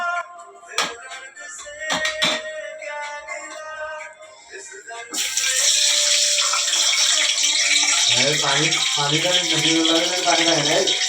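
Rice and lentils being washed for khichuri: light clinks and splashes, then a loud continuous stream of running water with rattling grains close by, a voice speaking over the early part.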